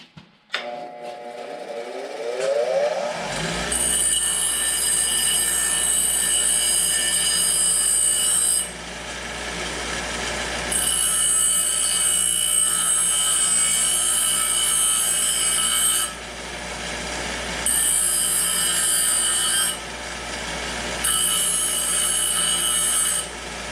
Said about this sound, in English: first thing I'm going to do is sharpen that right there up just a little bit.